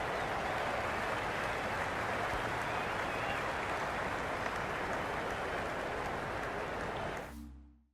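Crowd applause at the MCG in the Cricket 26 video game during a Pakistan vs India match, a loud, steady, dense clapping roar lasting several seconds before fading out at the end.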